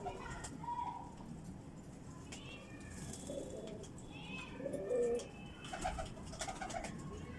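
Soft, low coos of a Rampuri pigeon repeat at intervals against a background of chatter and faint outdoor noise.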